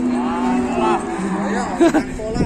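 Cattle moo loudly and close, with a drawn-out low call followed by shorter lowing bursts over a steady background murmur of people and crowd noise.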